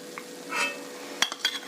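Badusha sweets deep frying in oil give a soft, faint bubbling sizzle, broken by a few brief sharp clinks of a utensil against the pan near the end.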